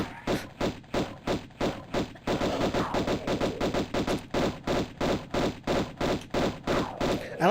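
Dual guns firing in Tomb Raider, a steady stream of sharp, evenly spaced shots, loud and close, with the two guns drifting in and out of sync so the rhythm doubles in places.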